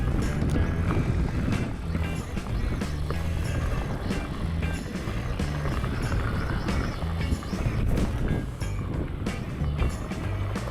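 A Rambo Prowler side-by-side rumbles in first gear across a bumpy soybean field, a steady loud engine drone with rattling jolts and wind buffeting throughout, no clear speech.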